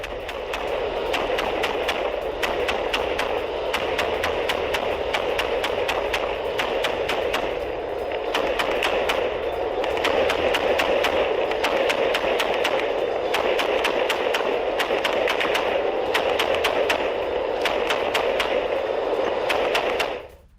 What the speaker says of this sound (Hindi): यूक्रेनी पोस्ट पर अंधाधुंध फायरिंग